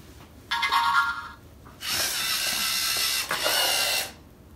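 LEGO EV3 robot motors whirring as the robot drives straight and then turns: a short high mechanical whine, a pause, then a longer steady whir that stops abruptly, all nearby and alone.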